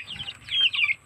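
A native Bisaya chicken gives a couple of short, fairly close clucks and squawks in quick succession, heard on its own without talking.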